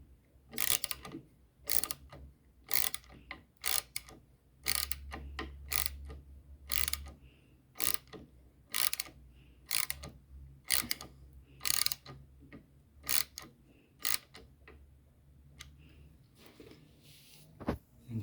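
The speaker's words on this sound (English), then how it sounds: "So put it in there, press it down, and tighten the nut" A nut being tightened on the suspension compression valve of a Honda CRF300L during a K-Tech fork upgrade, giving a run of sharp ratcheting clicks in quick bursts, close and fairly quiet, with no talk.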